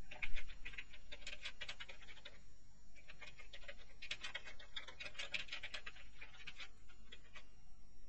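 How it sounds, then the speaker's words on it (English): Fingers type on a computer keyboard while entering a task subject in Microsoft 365, producing close, quick runs of light key clicks in uneven bursts with brief gaps and no talk. "So I'm going to type that in."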